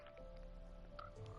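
A frog croaks at a frog pond in a Minecraft 1.19 game world, giving a soft, low throaty croak set in quiet ambient noise with no voices.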